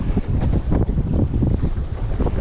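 Strong gusting wind roars across the microphone aboard a Laguna-Kombi+ sailing dinghy on open water near the Leningrad nuclear plant. The buffeting is loud and steady, with the low rush of water beneath it and no voices.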